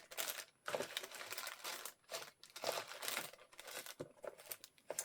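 A plastic package of snowflake stickers crinkles in repeated close, soft bursts as fingers work it open, the crackling coming in uneven handfuls with brief pauses between.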